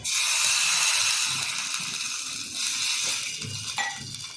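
Water poured into a hot tempering for dhokla sets off a loud, close steamy hiss and sizzle that slowly fades, with no talking.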